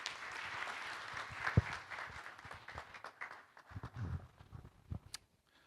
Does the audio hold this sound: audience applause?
yes